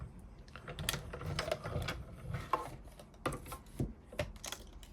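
A die-cutting and embossing machine pulls a card through with a steady, grinding crank sound, made of uneven clicks and rattling thumps, close and fairly quiet, with no talk.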